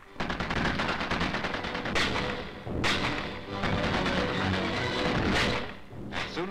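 Supporting gunfire crackles during a No. 4 Commando assault exercise up a ridge, with mortars laying smoke cover. Dense, continuous bursts of rifle and machine-gun fire are broken by heavy thumps and booms.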